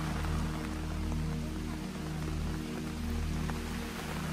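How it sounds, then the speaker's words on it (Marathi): Heavy rain pours down during a boat ride around Munroe Island, a dense, continuous hiss over a steady low engine hum with no voices. "एकदम फोर्सने शॉवर लावल्यासारखा पाऊस आला"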